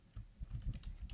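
Computer keyboard typing, a quick, faint run of soft key clicks in an irregular rhythm, close and alone.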